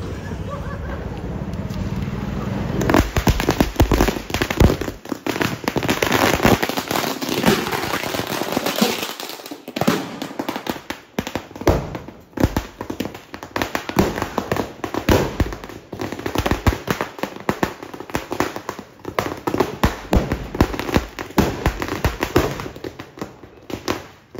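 Diwali firecrackers go off in a long string of rapid, loud cracks and pops, dense and irregular like a burst of gunfire. It runs with a few brief lulls, and faint voices sound in the background.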